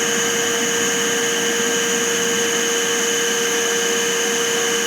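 An oil-fired heating boiler burner runs with both nozzles lit, a loud, steady roaring hum with strong constant tones, close and unbroken throughout.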